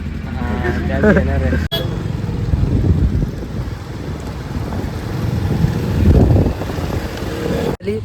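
Motorbike riding, with a steady engine drone and heavy wind rush on the microphone during the ride, loud and continuous, with a couple of brief dropouts.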